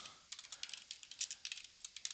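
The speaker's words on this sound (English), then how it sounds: "I don't know why I'm typing." Quick keystrokes on a computer keyboard click in short irregular bursts, close but quiet, with no voices over them.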